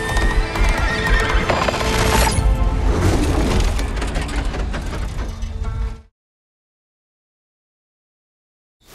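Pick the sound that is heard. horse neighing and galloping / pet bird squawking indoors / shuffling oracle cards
horse neighing and galloping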